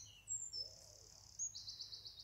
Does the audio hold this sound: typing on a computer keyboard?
no